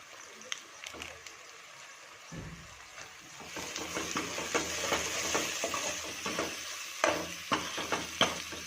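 Chilli powder and pav bhaji masala being stirred in a pan, with a steady sizzle and repeated scraping strokes that grow busier partway through, close, with no talking.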